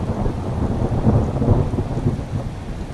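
A thunderstorm sound effect with heavy, constant rain and deep rolling thunder rumbling throughout, loud and close with no voices.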